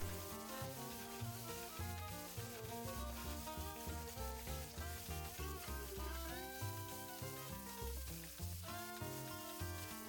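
Carrots stir-fry in sesame oil in a home kitchen, a soft steady sizzle with occasional stirring scrapes beneath prominent background music.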